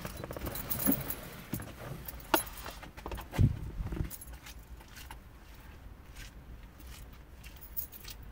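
A bunch of keys jingles as someone picks them up along with a water bottle, with a few bright metallic rattles and handling knocks early on, then fading footsteps and room quiet.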